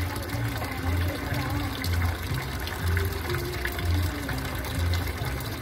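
Water from a household biodigester outlet pouring into a bucket, a steady, close gush and splash with a faint rhythmic pulsing throughout.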